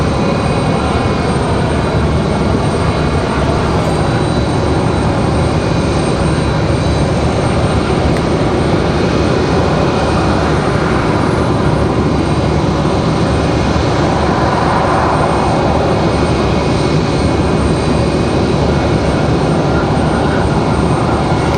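Alaska Airlines jet airliner at Raleigh-Durham International Airport, a steady loud engine roar that holds across the whole stretch, broad and continuous with no talk over it.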